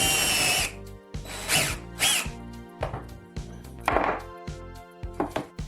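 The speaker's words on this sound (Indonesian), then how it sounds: "Sekarang Anda pasti tidak akan mengebor lebih dalam dari yang dibutuhkan." A power drill fitted with a cable tie wrapped around the bit as a depth stop whirs in several short bursts, each spin-up followed by a sharp drop to near silence, close and loud with no talking.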